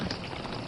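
Steady rain patters in a dense, even hiss, a brief continuous wash of drops with no voices.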